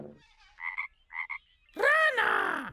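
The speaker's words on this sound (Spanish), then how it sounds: "¡Rana!" Two short pairs of frog croaks come first, followed by a longer, louder croak with a groaning, rising-falling tone, close and clear against silence.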